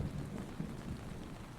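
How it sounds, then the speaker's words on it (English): Rain from a thunderstorm patters steadily on a tent, with soft low rumbles of thunder rolling underneath the close, even drumming. "how about thunderstorm and rain on a tent"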